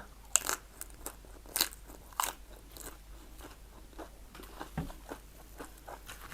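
Someone bites into and chews mango, producing a few sharp crunchy bites early on over a steady low background hum, then quieter chewing.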